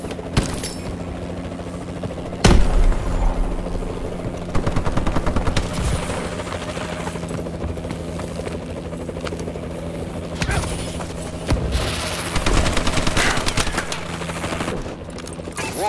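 A Warbird aircraft in Call of Duty: Advanced Warfare drones and rotors overhead through a long, dense stretch of game combat, with bursts of rapid gunfire and sharp impacts layered over the steady engine noise.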